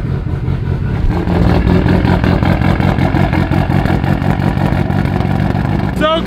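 A Mitsubishi Evo engine runs loud and close outside on a snowy day, a steady rumbling drone with rising revs and a chattering exhaust throughout.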